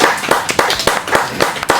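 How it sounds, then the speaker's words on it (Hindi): An audience claps hands at a Pakistan Independence Day event, with brisk, uneven rhythmic slaps that sound close and lively through a short burst, and no voices over them. "तालियां बनती है"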